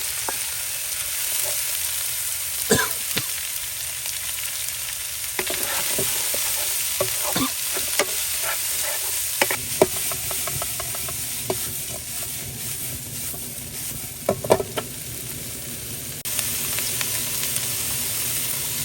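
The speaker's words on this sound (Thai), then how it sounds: "เราผัดจนเนื้อมันอุ่นแล้วนะครับ" Beef with pounded chilli and garlic stir-frying in a hot pan for Thai basil beef: a continuous loud sizzle and hiss with scattered scraping strokes and clanks of the spatula, heard close and without speech.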